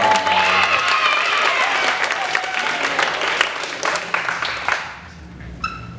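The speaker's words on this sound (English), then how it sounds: "Everyone clap." Loud applause from an audience, dense clapping that fills the room and then tapers off quickly.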